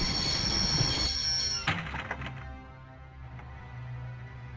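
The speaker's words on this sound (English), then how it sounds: "I always wanted to stop the train." A train in the Broken Sword point-and-click adventure game grinds to a halt, loud rumbling and wheel squeal fading into a lower steady hum with a few clanks.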